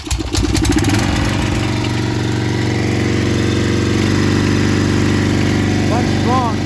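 A Snapper walk-behind lawn mower engine started with the choke on catches almost at once and settles into a loud, steady, close rumbling idle that runs on unbroken.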